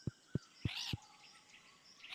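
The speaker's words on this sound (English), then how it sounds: "he is making parrot sounds now" A few short sharp chirps in quick succession, then brighter squawky calls, from a parrot in the Stardew Valley video game, faint and clean with no talking.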